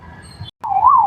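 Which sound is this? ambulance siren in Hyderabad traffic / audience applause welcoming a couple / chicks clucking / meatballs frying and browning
ambulance siren in Hyderabad traffic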